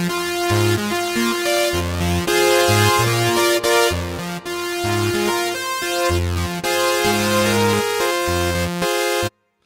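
Surge XT software synthesizer patch played dry with no effects, a bright, harmonically rich tone in stepping chords and bass notes that play steadily before cutting off abruptly at the end, with no voices.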